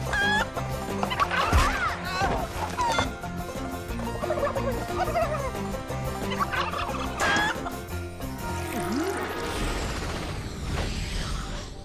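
A cartoon character changed into a turkey gobbles and clucks in loud, rapid bursts that go on throughout, close and alone, with a mechanical clatter in the background.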